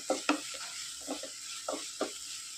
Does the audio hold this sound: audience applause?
no